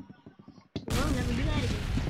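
A rocket launcher blast in Roblox Arsenal bursts in loud and close after a brief lull, a sudden broad roar that stays dense and sustained to the end, with faint game sounds and short pulses before it.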